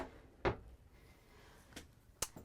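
A soft thud of a soft-close drawer closing in a 2024 Newmar Essex 4595 motorhome, followed by a couple of quieter clicks and taps in a quiet room.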